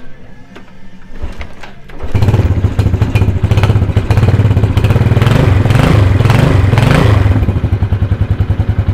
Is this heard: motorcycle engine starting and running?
yes